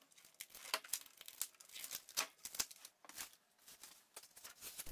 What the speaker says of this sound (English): So I just need to cut off this plastic wrap and remove any additional foam.